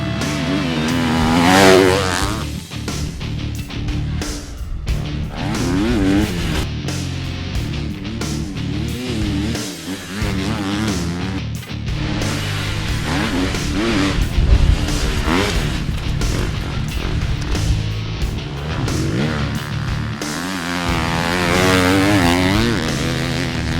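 A factory KTM 250F motocross bike at full throttle: high-pitched, buzzing engine revs that rise and fall over and over, loud and close, with no talk.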